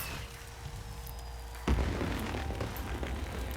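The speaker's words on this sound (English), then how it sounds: "This is just your typical confetti cannon that you can interact with." A confetti cannon fires inside the game Wizard101 with one sudden, loud burst partway through, its crackling pop lingering over a steady ambient game background.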